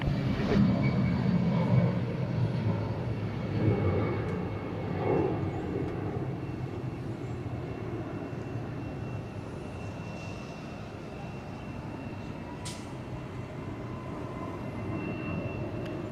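A Delta airliner comes in to land on runway 26 right at Atlanta airport, its engine roar strongest at the start, then easing into a long, steady distant rumble with a brief sharp click near the end.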